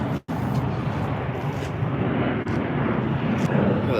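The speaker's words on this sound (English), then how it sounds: "Got that A321 rolling, making all that noise." An Airbus A321 airliner rolls at LAX, a broad, distant roar of jet engines that holds steady and rumbles on without a break.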